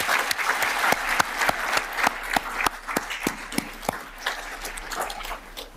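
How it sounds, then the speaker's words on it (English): An audience at a celebration-of-life event honoring Jared L. Cohon applauds, with steady, fairly sparse clapping heard close up and continuing for several seconds. "Let's give another round of applause to everyone who contributed"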